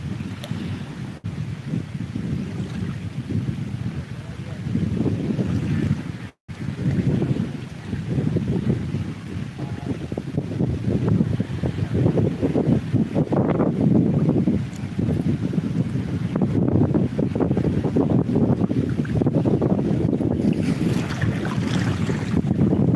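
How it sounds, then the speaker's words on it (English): Ocean waves on a Yucatán beach wash and splash around a phone held at the water's edge, a loud, continuous rushing surge with heavy wind buffeting the microphone and one brief dropout. "The waves are splashing the phone here."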